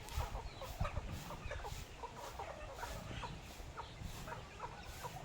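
Many chickens cluck and chatter together at feeding time in a dense, steady flock noise, close by and fairly loud.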